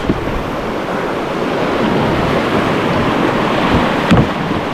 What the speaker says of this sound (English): Got some fun rapids here.